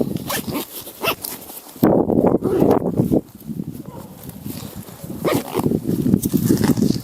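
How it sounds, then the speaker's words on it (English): A hunting backpack from a saddle hunting setup is zipped shut, with rasping zipper pulls loud and close, including a longer stroke in the middle, amid rustling gear. "And then I'm going to zip up my backpack."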